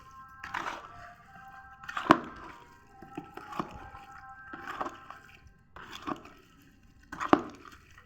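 Mango pickle (avakaya) being mixed by hand with salt, a series of soft wet squishing thuds and knocks recurring roughly every second, fairly quiet and close with no talk.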